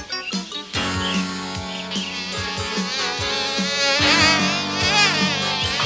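A cartoon swarm of bees buzzes steadily over a bright musical score, the drone holding loud and close throughout without fading.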